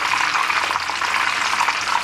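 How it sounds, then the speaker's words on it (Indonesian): Chicken frying in hot oil gives a loud, close, continuous sizzle that stays steady throughout without pauses, and no voices are heard. "Jadi sekarang goreng ayam"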